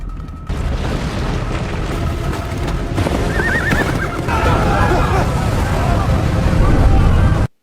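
A horse whinnies as it is ridden up a snowy hill in a loud, rumbling Mulan film battle scene, with pounding hooves and crowd noise building steadily throughout.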